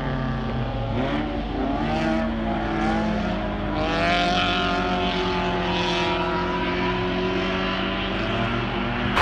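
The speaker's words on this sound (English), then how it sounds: "Those are the Hornets or like mini stocks or something" Hornet mini stock cars racing on a muddy, slimy dirt track, several engines droning and revving together at a distance in a continuous, rising and falling roar.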